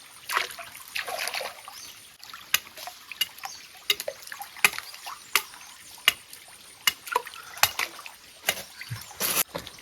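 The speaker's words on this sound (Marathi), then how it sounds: "पाणी वाहत आहे" Water trickling and dripping in a forest stream, faint and close, with scattered irregular splashes and drips over a quiet background.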